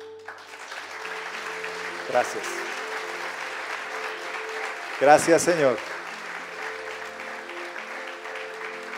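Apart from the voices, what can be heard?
congregation applause in church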